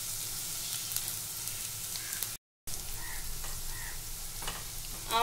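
Onion and garlic frying in a pan while being cooked before greens go in, a steady close sizzle with occasional stirring scrapes and a brief dropout midway.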